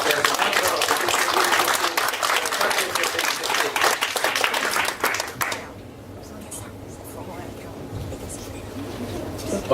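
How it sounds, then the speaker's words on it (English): A seminar audience gives a round of dense, lively applause for about five seconds. The clapping then stops abruptly, leaving soft room murmur and faint movement. "give a round of big applause to yourself"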